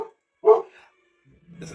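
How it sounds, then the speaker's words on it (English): An indoor dog gives a single loud, close bark after a brief sound, followed by quieter low rumbling and a faint trailing whine in an otherwise quiet room. "I don't know what she's barking at"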